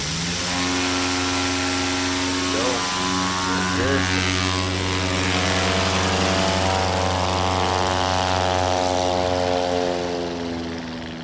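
STOL aircraft taking off during a short takeoff and landing competition in Gallatin, Tennessee, its propeller engine a loud harmonic drone that climbs in pitch as it powers up and departs, fading slightly at the end.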